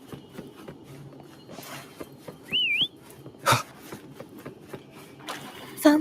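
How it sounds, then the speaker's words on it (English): In a video game, a character gives one short rising-and-falling whistle to call a companion, set among soft footsteps and a couple of sharp, brief noise bursts. "Why don't you call foam over? Try whistling."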